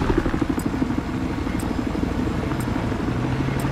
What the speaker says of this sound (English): Eyes on enemy helicopter located to the south